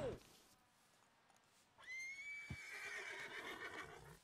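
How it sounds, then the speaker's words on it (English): A horse in the video game Red Dead Redemption 2 gives a short, close whinny at the start. Quieter game ambience follows, with a thin, sustained whistle-like tone. "I've earned the ability to bond with the horses quicker when spurring them."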